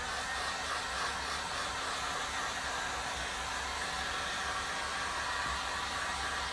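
A hair dryer blows steadily on a pumpkin craft piece at home, a continuous close, loud airy whoosh with a faint motor hum that holds unbroken throughout.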